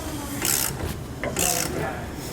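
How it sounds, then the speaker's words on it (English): Ratchet wrench tightening a bolt on a Fastway e2 weight distribution trailer hitch, giving two short bursts of rapid metallic clicking close by, separated by a brief pause. "So we want to tighten it until it makes contact."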